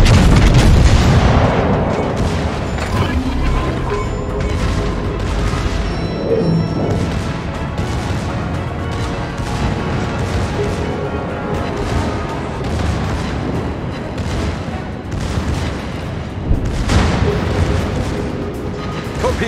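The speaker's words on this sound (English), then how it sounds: "Concentrate fire on the enemy warship." Warship main guns in World of Warships boom repeatedly at an enemy vessel, with heavy blasts and crashing impacts in an irregular loud barrage, close and dense, with no voices.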